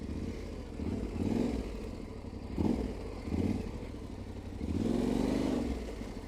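Light enduro motorcycle weaving through a cone drill, its engine rising and falling in repeated revs and throttle surges, close and steady with a loud swell near the end.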